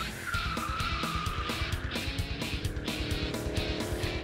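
A drift car at a French drift championship slides through a corner, its tires skidding and squealing steadily over a droning engine, loud and sustained from start to finish.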